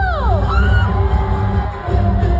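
A live event crowd in Cebu whoops, yells and cheers loudly and continuously, with shrill rising cries at the start and a steady roar of voices throughout.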